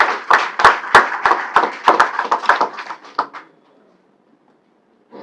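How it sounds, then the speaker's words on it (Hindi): An audience in a hall gives a burst of applause at a Jain community event, the claps rising and thinning out over about three seconds before the room falls silent. "आप सब एक बार जोरदार तालियों से सूरज जी का स्वागत करें।"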